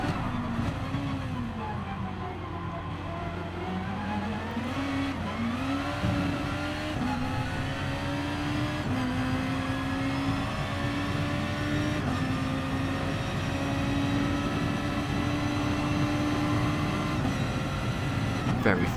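Super GT500 race car engines lapping Suzuka in Gran Turismo Sport roar steadily throughout, with rising and falling revs, gear changes and a constant near drone, while people talk over the engine noise.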